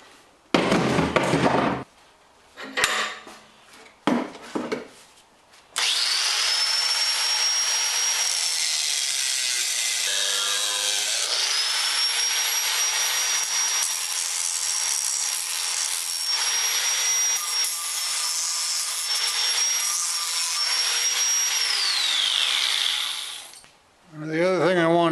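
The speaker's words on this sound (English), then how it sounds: "I think I'll cut the half inch there and drill a hole through about there." Power tools cutting and drilling hot rolled steel: sharp irregular bursts of noise at first, then a long, steady high-pitched grinding whine with a shifting tone, close up, ending in a brief dip and a final wobbling squeal.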